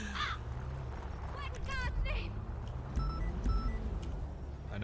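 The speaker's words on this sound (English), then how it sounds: "I know I didn't just hear a crow." A crow caws several times in GTA V (NoPixel), a few harsh calls against game background noise and engine-like rumble, with a voice talking in the scene.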